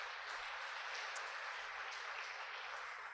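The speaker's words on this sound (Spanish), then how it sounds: "Denle un aplauso al Señor." Church congregation applauding during a Friday family service, a steady, soft and distant wash of clapping beneath a low hum.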